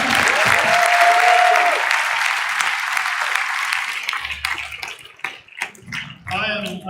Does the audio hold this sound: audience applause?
yes